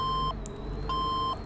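Reversing beeper on a vehicle in Farming Simulator 15: steady high electronic tones sounding in two clear pulses separated by a short gap, over a low engine rumble.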